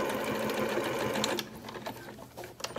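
Sewing machine stitching steadily for over a second on a fabric chicken saddle, then stopping for a pivot before short bursts of backstitching, close and clear with faint background noise.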